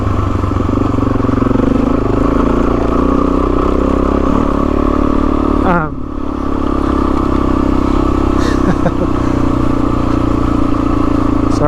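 A motorcycle being ridden gives a steady, loud engine drone mixed with road and wind rumble; the sound dips briefly about halfway through, then carries on unchanged to the end, with no voices.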